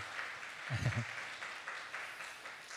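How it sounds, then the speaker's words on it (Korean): A church congregation applauds to welcome visiting guests, a soft, steady wash of clapping heard from a distance throughout, with a brief low voice partway through. "뜨거운 박수로 환영하겠습니다"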